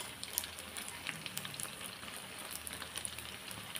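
Food frying in oil without a flour coating, a faint, crackly sizzle with scattered small pops and spits, heard alone.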